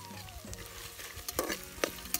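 Rajma kidney beans go into a hot pan with garlic, hissing in bursts with a few sharp sizzling flares and soft stirring scrapes, no voices present.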